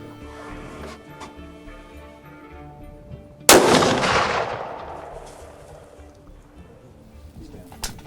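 A single loud rifle shot while hunting whitetail deer rings out near the middle and its echo rolls away slowly, after quieter outdoor ambience with faint background voices.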